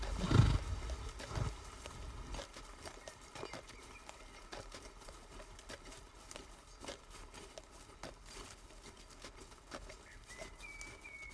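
Horses breathe and move as a mounted company presses through a forest. Hooves clop and snort close by, loudest at first and then settling into softer shuffling, with faint birds in the background.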